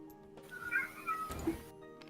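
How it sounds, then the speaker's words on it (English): A house cat meows, drawn out and rising, up close, alone over a low background hum. "Did I hear somebody's cat?"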